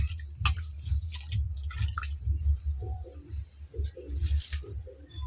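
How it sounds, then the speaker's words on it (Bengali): Mangoes being washed in water for a raw mango drink, with close splashing, dripping and squishing sounds as the fruit is rubbed and rinsed, fairly steady throughout and with no talk. "এরপর আমি এগুলোকে জলের মধ্যে ধুয়ে দেব ভালো করে ধুয়ে ধুয়ে নেব"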